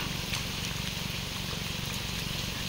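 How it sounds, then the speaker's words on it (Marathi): Rain begins to fall in a Konkan village, a steady, even hiss of drops with no talk over it. "पावसाची सुरुवात झाली आहे, पण पाऊस येतोय बघा तिकडून"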